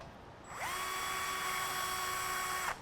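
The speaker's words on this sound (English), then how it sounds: "I'm going to move my antenna and I'm going to drill through real quick." A power drill bores through a boat's helm area while installing a hydraulic steering pilot: a sudden high whine that spins up in a second, holds a steady pitch for about two seconds close to the mic, then cuts off.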